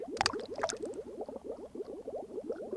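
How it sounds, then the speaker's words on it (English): An egg drops into a water tank in the Dreamcast game Seaman: a couple of sharp splashy plops, then a steady run of soft bubbling gurgles, close and fairly quiet. "let's drop the egg in the tank"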